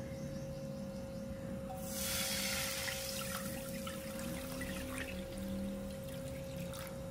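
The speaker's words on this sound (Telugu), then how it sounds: "ఇప్పుడు మనం వాటర్ పోసుకుందాము." Water poured into a pot for a semolina dish in a home kitchen, a steady splashing stream starting about two seconds in and running continuously to the end, fairly close.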